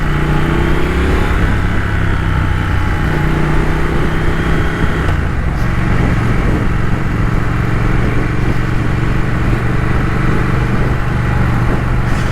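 A 2021 Triumph Thruxton RS motorcycle is being ridden, with a steady, loud engine drone, shifting tonal hums and a slight change in pitch partway through. The sound runs continuously with no talk.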